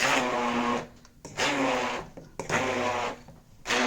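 A blender purées boiled potato into a smooth mass, its motor whirring in three loud bursts of about a second each with short pauses between, no talking.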